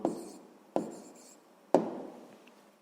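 Three quick strokes of a pen or pencil writing numbers by hand, close and quiet with a short gap between each, and no voices.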